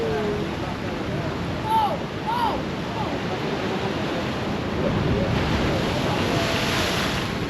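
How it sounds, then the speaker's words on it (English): Rough sea waves pound a harbour wall at Vernazza, Italy, in a steady, loud churning roar of surf with heavy wind buffeting the microphone throughout. "You should see this sea."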